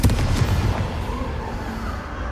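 A Confringo fire curse from the Hogwarts Legacy video game bursts in a loud, fiery blast, with a dense crackling rumble that trails off over about two seconds.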